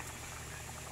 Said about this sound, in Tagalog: konting kulo pa at maluluto na po ito